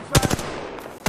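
Bursts of rapid gunfire from the battle royale shooter Apex Legends, several sharp shots in quick succession near the start, a lull, then another loud burst at the end.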